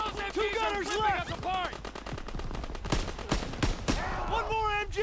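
Rapid machine gun fire in Call of Duty WWII rattles continuously under shouted voices, dense bursts of shots close and loud throughout.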